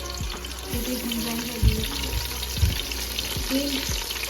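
Browned onions fry in a pan as chopped tomatoes are dropped in, with a soft continuous sizzle, a few splashy thuds as pieces land and light stirring.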